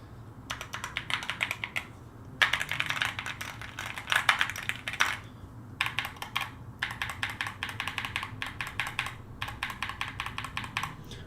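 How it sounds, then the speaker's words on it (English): Fingers type on a computer keyboard in close, crisp clattering bursts of rapid keystrokes. Short pauses break up the runs, and the typing carries on steadily for about eleven seconds with no speech. "you think this keyboard sounds good as is, I can actually make it sound even better."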